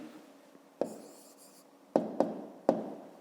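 A pen scratches out a math answer on paper, with a few sharp taps and strokes breaking up the quiet, soft writing.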